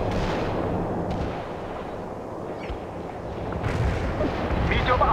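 In World in Conflict, artillery fires for effect. Loud, continuous booming and rumbling runs throughout and swells again toward the end, with voices faintly mixed in.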